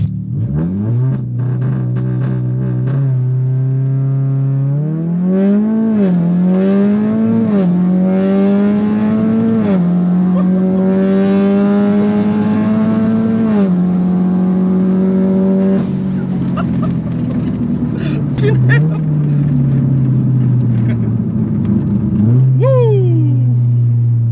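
A Volkswagen Golf R accelerates hard on a drag race run, its loud engine rising through several gear changes with steady climbing revs and brief dips at each shift. It ends in a sharp rev spike, close and continuous.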